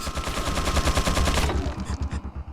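Red Zealot firing a minigun in Resident Evil 4, a loud rapid burst of evenly spaced shots that cuts off partway, followed by fainter scattered impacts.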